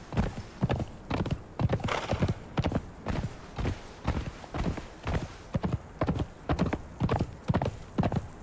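Horse hooves in a video game clip-clop in a steady, even rhythm, loud and near, as horses walk along without pause.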